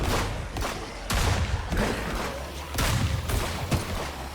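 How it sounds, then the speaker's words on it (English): Gunfire in the survival video game HumanitZ during a faction battle, with repeated sharp shots and bursts at irregular intervals over a rumbling, noisy backdrop and no talking. "And there's more"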